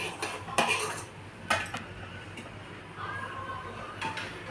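Metal spoon scraping and clinking against a cooking pot while spreading biryani gravy around its sides, a few sharp taps and scrapes over quiet kitchen background noise.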